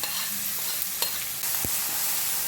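Broken dried red chillies and curry leaves frying in hot oil, a constant close crackle and hiss broken by a couple of brief utensil knocks, with no speech.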